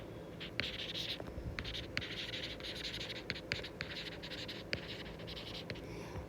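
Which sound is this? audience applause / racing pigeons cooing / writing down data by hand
writing down data by hand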